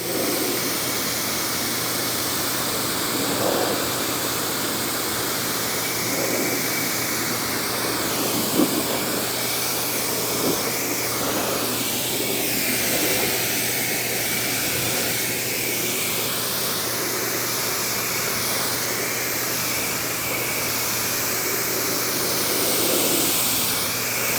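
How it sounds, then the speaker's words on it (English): Water spray rinsing foam off a car's ceramic-coated surface, a steady close hiss with shifting rushing tones as the stream moves across the panels, no talking. "let's give it a rinse off and see what it looks like when we rinse the foam off the surface"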